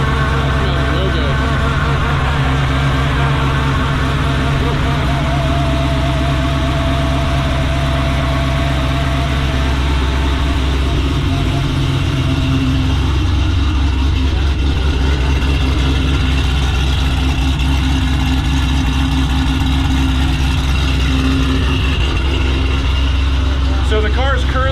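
A Chevrolet Camaro V8 fitted with Taylor ignition wires idles in tour mode at night, a steady low rumble running loud and close throughout while someone talks over it.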